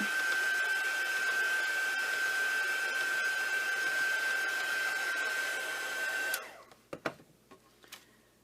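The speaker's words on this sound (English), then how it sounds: "Let me dry this card off a little bit." A heat tool blows with a steady, close whine while drying a craft card for a journal, then switches off abruptly, followed by a few light handling taps.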